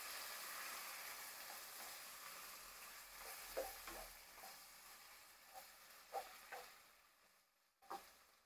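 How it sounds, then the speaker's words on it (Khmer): Pork and kimchi stir-fried in a pan for kimchi soup give a steady, close sizzle, with a few sharp clatters as the food is stirred and a short quiet gap near the end. "ខ្ញុំចាប់ដាំឆាខ្ទឹមជ្រីហ្នឹងចូលមួយសាច់ឲ្យចូលគ្នា"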